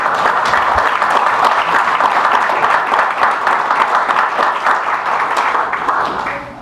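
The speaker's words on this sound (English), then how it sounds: "How about a round of applause for our audience?" An audience at a League of Women Voters city council districts forum in Oxnard claps in sustained, dense applause that holds steady and then tapers off at the end.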